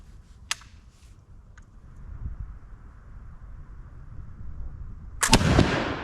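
A .69 or .71 caliber musket fired at a target, with a brief sharp crack early on, then a quiet stretch, and finally a loud, close boom near the end that decays into a rumble.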